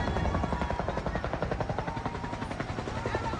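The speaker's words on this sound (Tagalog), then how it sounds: "Nagbuhos na ng tubig mula sa helikopter para maapula ang malaking sunog" Helicopter hovering close over a residential fire in Tondo, Manila, dropping water, its rotor a loud, steady rapid chop throughout with a continuous engine whine.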